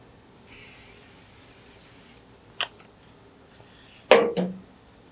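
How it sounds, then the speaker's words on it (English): A can of canola oil cooking spray hisses in a steady, soft burst for under two seconds onto a Lone Star Grillz Large IVS smoker, followed later by a few clacks and a knock nearby. "We're going to spray it down with a little bit of canola spray."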